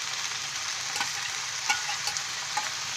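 Chopped tomatoes go into a pan of frying vegetables, raising a steady, close hiss of sizzling oil marked by a few light taps and stirs, and no voices.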